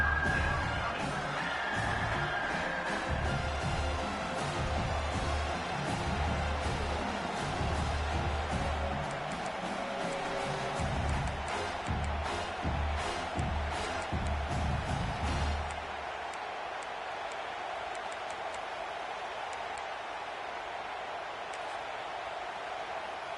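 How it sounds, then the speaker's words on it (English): A college football stadium crowd at Clemson roars to back the home defense in the red zone, a dense, broad wall of cheering and whooping that holds for about fifteen seconds before dropping to a quieter murmur. "the crowd coming to life here, trying to help this defense down in the red zone"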